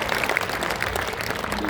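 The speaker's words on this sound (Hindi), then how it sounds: "एक बार दोनों हाथ उठाकर तालियां बजा के मुझे बताइए" An audience claps at a Hindi poetry recital, a brief, fairly faint patter of many hands.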